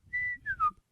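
A whistled imitation of The Good, the Bad and the Ugly theme: one held note followed by a quick two-note descending phrase, alone and close.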